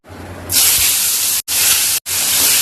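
Fish fries in hot oil with a loud, close, steady hiss that bursts in after a quiet start. Two brief cutouts break the hiss, and no one speaks.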